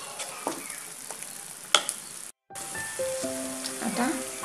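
Vegetables hiss and crackle as they drop into hot oil for pav bhaji, a soft steady sizzle with a stir clatter, then a brief cut and more frying with faint tonal clinks.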